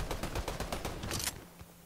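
Rapid gunfire in the Fortnite video game, a quick burst of close, sharp shots firing in a steady stream for over a second before the shots die away.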